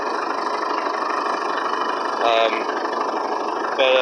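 An International 624 tractor engine idling close by with a steady, even rumble, while someone talks briefly over it.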